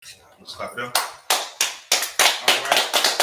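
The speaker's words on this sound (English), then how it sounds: "Clap it up." An audience at a church gathering claps in a loose, quickening rhythm of sharp claps over a few seconds, with some voices under the applause.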